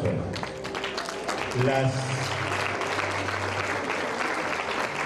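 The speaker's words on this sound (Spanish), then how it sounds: "Aplauso." An audience at a university ceremony applauds in a dense, steady roar of clapping that fills the hall, while a voice briefly speaks over it.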